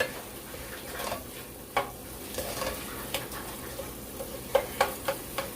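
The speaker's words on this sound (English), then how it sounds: "once we hear this getting a nice little fry on it, then you know I think I'll be ready for the beans" Food sizzles and fries in a pot on a stove burner for red beans and rice, a steady low crackle broken by scattered stirring clicks and scrapes, close and fairly quiet, with no voices.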